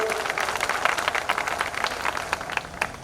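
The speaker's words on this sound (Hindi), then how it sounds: "जोरदार ताली बजा करके इनका स्वागत करिए" A crowd at a political rally applauds a welcomed guest, a steady dense patter of many hands clapping at a distance, moderately loud and sustained, with no voices over it.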